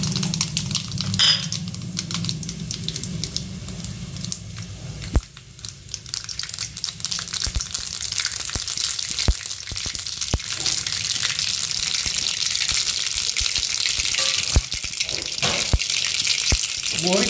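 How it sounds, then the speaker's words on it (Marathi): Mustard seeds crackle and pop in hot oil in a kadhai for an eggplant curry, a dense stream of sharp little snaps over a steady hiss, heard close up. "मोहरी चांगली तडतड झाल्यावरती आपण हा गॅस बंद करायचा"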